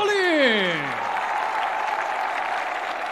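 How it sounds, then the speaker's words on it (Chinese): Audience applause at a professional MMA cage-fight event greets a fighter introduction, a dense steady roar of clapping that follows a briefly trailing announcer's voice and holds through to the end. "掌声送给来自俄罗斯的格里高里。"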